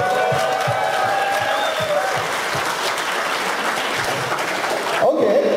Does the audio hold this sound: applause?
yes